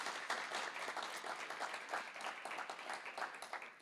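Audience applause fills a hall at a liberal political gathering on Europe's future, a dense, steady wash of many hands clapping throughout, moderately distant and unbroken by speech.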